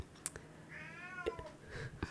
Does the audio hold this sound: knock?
no